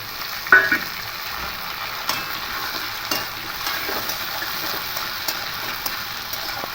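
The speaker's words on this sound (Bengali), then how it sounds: "আলুগুলো দিয়ে একটু হালকা আলুগুলোকে ভেজে নেব" Cut potatoes frying in a pan of oil with onion and chilli, for a light rohu fish curry with ridge gourd: a steady soft sizzle throughout, broken by a few sharp clinks and stirring scrapes, no talk.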